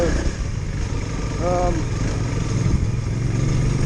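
Honda CRF300L motorcycle riding an off-road trail, its engine buzzing steadily at mid pitch with slight rises, heard close under someone talking.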